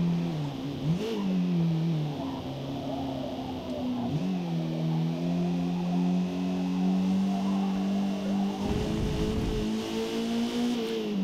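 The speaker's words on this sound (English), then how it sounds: "I'm also noticing that the car is accelerating quite a bit better out of the turns" Racing car engine in Forza Motorsport revving steadily, dipping and climbing again as it accelerates out of turns; a loud, continuous close engine drone with rising pitch sweeps, no talking.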